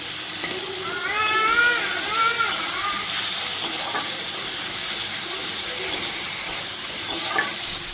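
Tomatoes frying in a pan make a steady sizzle with stirring scrapes and occasional crackles. A brief faint high-pitched squeal or voice-like tone rises over the sizzle early on.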